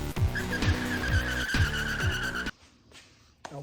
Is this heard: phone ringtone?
no